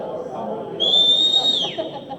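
A person whistles a single sustained high note lasting under a second, clear above a faint murmur of a classroom or meeting room.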